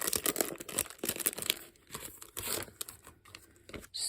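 A plastic package of decorative craft stickers being pulled open, bursts of close crinkling and tearing with brief pauses between them.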